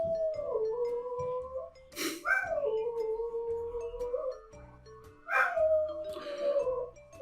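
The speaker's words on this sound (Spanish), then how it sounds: "Mis perros." Several dogs at home bark, yip and whimper in a long stretch of whining howls with sharp bursts near the start and again midway, fairly close, with no talking.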